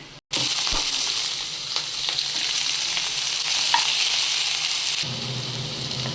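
Onions and chillies sizzle in hot oil in a pan after garlic cloves, a loud, continuous frying hiss with stirring scrapes, which drops in level near the end.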